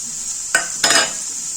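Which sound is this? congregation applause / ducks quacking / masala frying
masala frying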